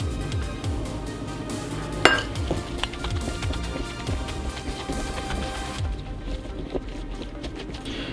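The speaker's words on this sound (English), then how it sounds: "now I'm adding in the xanthan gum mixture. I'm gonna mix that really well" Thick plant-based burger patty mix being worked by hand or spoon after xanthan gum mixture is added, giving a steady stream of soft squelching and clinking bowl sounds, close and continuous, with no talking.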